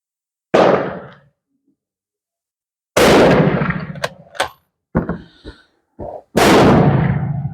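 Rifle shots fire forming .348 Winchester brass into 8x56R Kropatschek cases outdoors, several sharp loud cracks spaced apart, each followed by a brief echoing tail and some smaller clicks and pops between.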